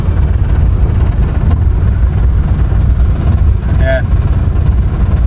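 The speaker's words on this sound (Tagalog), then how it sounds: "Ang baba ng idle." An idling Toyota Corolla engine runs low and rough with the AC on, a steady close rumble with a shaky, uneven pulse, under a short spoken word and a brief chirp near the end.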